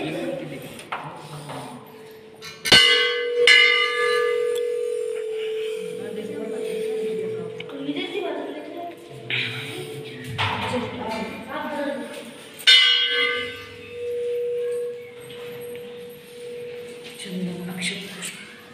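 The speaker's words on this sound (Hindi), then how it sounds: "ये देखो घंटी" A temple bell at a Jain temple is struck and rings out with a lingering tone, a couple of times, while people talk nearby and background noise continues.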